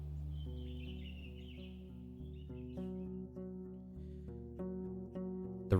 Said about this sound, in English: Dozens of birds live among the collapsed roofs. Their fluttering, singing, and squawking is free of worries.